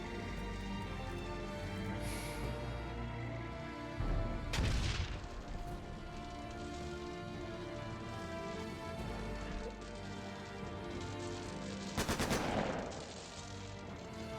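Enemy grenades and gunfire in the video game The Lamplighters League: two loud bursts of explosive blasts and shots stand out about eight seconds apart over a constant low background din.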